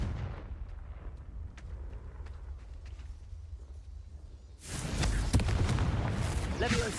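A Confringo spell blast in a Hogwarts wizarding video game erupts partway through as a sudden loud, crackling explosion that rumbles on after a quieter stretch with a voice in the background.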